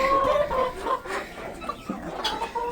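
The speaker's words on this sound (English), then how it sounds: "Pretty much all the chickens are inside." Chickens cluck and murmur inside a coop during winter on a Kentucky farm: a close, busy flock with overlapping short calls throughout.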